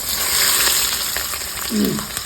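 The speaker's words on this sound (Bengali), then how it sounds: "তেলে আর ঘিতে পেঁয়াজটা যা ভাজা ভাজা হবে" Onions crackle and sizzle in hot oil and ghee, a steady close frying hiss with a few faint stirring sounds.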